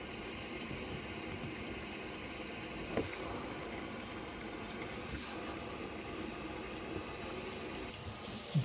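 Water runs steadily from a newly installed kitchen sink faucet, a continuous close hiss and splash that holds at an even level, with a few faint clicks and knocks from the plumbing over the top.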